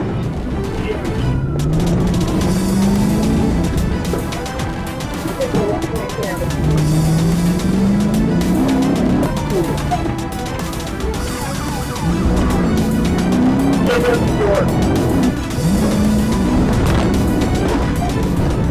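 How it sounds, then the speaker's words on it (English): A Jeep speeds down a road during a police chase, its engine roaring loudly beneath repeated rising and falling siren wails from the pursuing police cars that continue through the whole stretch. "The Jeep tears down Washington Road, then cuts through a backyard."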